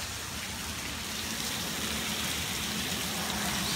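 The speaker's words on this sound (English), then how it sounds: "as you can see, it's pouring" Heavy rain pours in a dense, constant hiss with a low wind rumble beneath, loud and unbroken, no voices.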